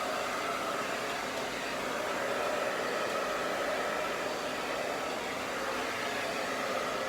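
Handheld hair dryer set to high heat and a low fan, running in a steady, even whoosh close by for the whole stretch, with no talk over it.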